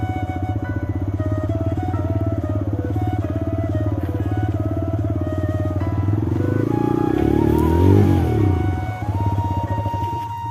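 A Rider motorcycle engine runs with a steady, loud close idle, then the revs climb and swell for a couple of seconds before dropping back to a lower throb.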